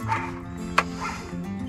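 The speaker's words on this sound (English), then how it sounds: "And then I get these dogs coming on the property." Dogs on a rural property bark and yip in short bursts, with a whimpering quality and one sharp louder yelp midway, over a low steady hum and faint voices.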